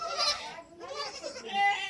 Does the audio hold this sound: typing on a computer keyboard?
no